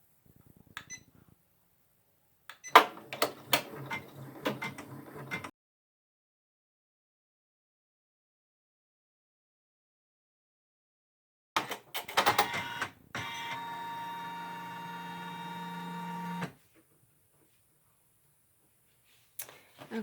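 A Janome MB4 embroidery machine stitches a decorative border line on an in-the-hoop tissue holder, heard as two bursts of rapid mechanical clatter, the second a steady buzzing run of several seconds, with silence between and no talk.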